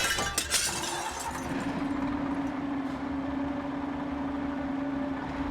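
A glass window shatters into many pieces, with a sharp crash at the start followed by tinkling fragments over a steady low hum, as in a sound effect.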